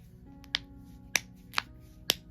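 A metal barrette snap clip sewn inside a fabric fidget toy pops four times in turn, each a sharp, close click against quiet background.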